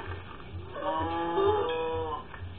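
A cow in a video game gives one long, low moo with a steady tone, clear and alone over a faint game background with no talking.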